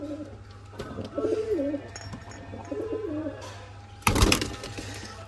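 A pigeon coos in two soft, rolling phrases, followed by a sharp louder knock or rustle near the end, with faint background hum.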